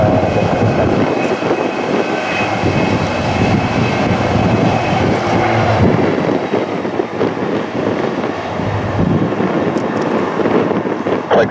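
KF Aerospace McDonnell Douglas DC-10F jet freighter at Toronto Pearson airport, a loud continuous engine roar rumbling steadily throughout, mixed with wind buffeting on the microphone.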